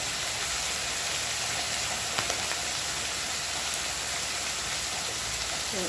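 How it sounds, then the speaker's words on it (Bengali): Fish frying in hot oil during a Bengali home-style shrimp and ridge gourd recipe, giving a steady, dense sizzle with a few brief crackles and pops, fairly close and continuous throughout with no talking. "ভালো করে মাছটা ভেজে নিচ্ছি"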